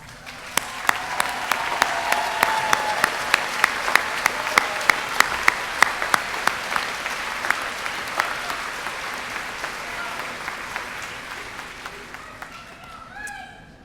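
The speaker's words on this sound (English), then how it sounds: "give them another round of applause" A large audience at a high school commencement ceremony applauds graduating students, steady dense clapping with a few sharper claps standing out, swelling through the middle and slowly thinning out toward the end.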